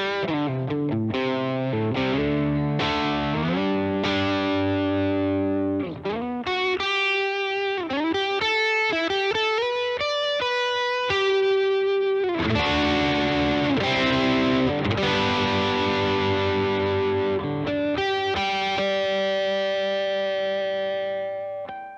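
Electric Strat guitar through a FlyRig pedal with the gain raised, strummed chords and single-note lines shifting between distorted and cleaner tones as a volume pedal is swept, steady and loud throughout.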